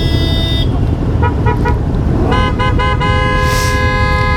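Several car horns honk loudly and repeatedly in a street during a motorcycle rally, with sustained overlapping toots standing out over a dense roar of traffic and idling engines.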